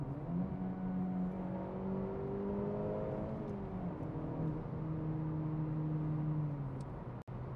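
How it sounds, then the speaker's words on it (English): An Acura Integra Type S engine with a deep exhaust note rises and holds through several revs, steady and close, with no talking. "it's that, the exhaust sound."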